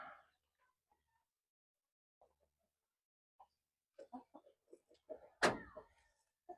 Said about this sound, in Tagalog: Ito yung mga Brahma natin. Tatlong hen at isang rooster.